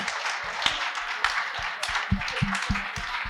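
An audience claps in answer to a question put to them, a steady spread of handclaps with a few sharper, louder claps standing out near the end.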